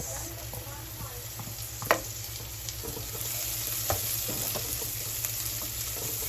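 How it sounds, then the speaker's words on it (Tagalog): Onion sautéing with already-browned garlic in a pan for pork picadillo: a continuous moderate sizzle with scattered utensil clicks and one sharp knock near the start, no talking. "susunod ko ng gisahin ang ating sibuyas"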